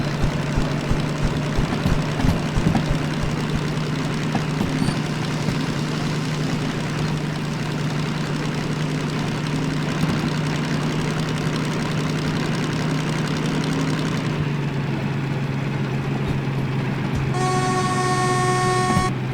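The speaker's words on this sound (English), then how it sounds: "I could swear I just heard a steam engine. Did you hear that? That sounded like a diesel now." Steam and diesel locomotives rumble in the Derail Valley train simulator game, a steady low engine drone with clattering texture throughout and a loud sustained horn blast near the end.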